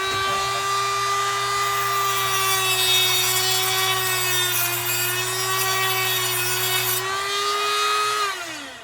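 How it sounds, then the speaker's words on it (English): A Dremel rotary tool grinds steadily through the brass post of a GE/Telechron clock movement, a loud, continuous high-pitched whine with a low hum beneath that winds down near the end. "it's going to take a few to get through this with the Dremel"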